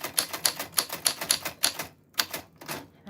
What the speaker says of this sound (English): That's what Heather sounds like on the typewriter.